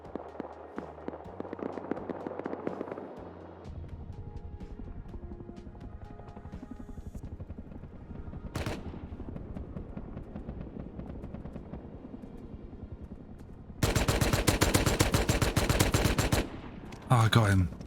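Heavy gunfire from the survival video game Rust, with sustained rapid automatic bursts and scattered shots, growing to a loud dense barrage near the end, with no talk over it.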